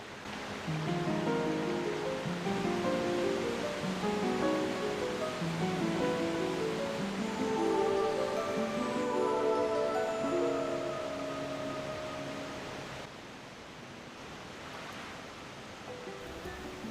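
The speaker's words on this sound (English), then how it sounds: "So she takes us all the way up the waterfall?" A rushing waterfall in the Twilight Princess video game, a steady broad roar of falling water that holds loud for most of the stretch, then eases slightly, with tonal game music layered over it.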